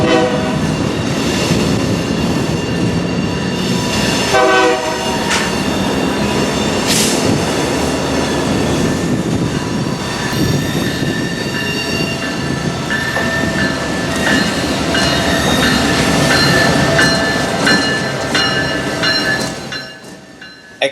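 A CSX freight train rolls along the downtown spur in Miami, a loud, continuous rumble of railcars with metallic wheel squeal and a horn-like tone, fading off at the very end.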